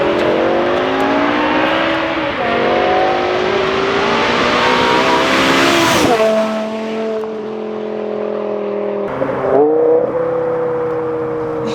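A V10 BMW M5 with its muffler deleted screams past in a loud flyby, rising harmonic engine howl peaking near the middle, then dropping pitch through gear shifts as it pulls away.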